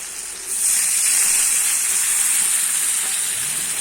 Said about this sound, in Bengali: আমি কিন্তু এখানে এবার জলটা দিয়ে দেবো